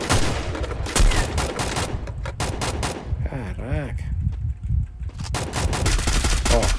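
Rapid bursts of automatic gunfire from Free Fire, loud and sustained, with brief pauses between volleys and faint voices mixed in.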